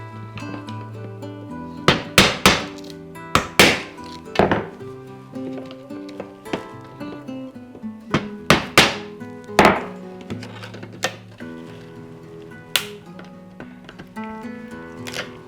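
Nails and a wooden strip are pried out of an old window frame, giving irregular sharp knocks, thunks and creaks with quiet gaps between clusters of impacts, close up.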